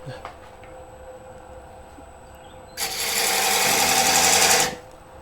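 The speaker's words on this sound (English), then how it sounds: "I will continue shaping the tenon" A wood lathe shapes a tenon sized for a 4-jaw chuck. A low motor hum runs under a loud, hissing, buzzing cut that lasts about two seconds and then stops.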